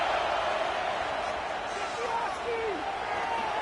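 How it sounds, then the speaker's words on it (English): Big stadium crowd at a college football game in Happy Valley, a broad sustained roar swelling on third down, heard from within the stands with faint whistles and shouts riding on top. "Here comes the noise from this big crowd in Happy Valley on third down."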